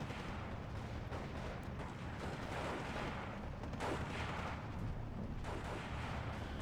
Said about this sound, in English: my 50mm support mortar is dropping right on that engineer team